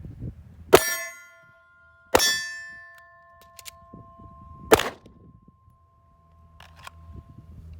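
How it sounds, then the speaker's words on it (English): Metallic clanks ring out as the magazine release on a PSA Dagger pistol is worked and the magazine drops, three sharp strikes with ringing decay and small clicks in between, in a quiet room. "the mag release on the dagger is a little stiff, it's a little small"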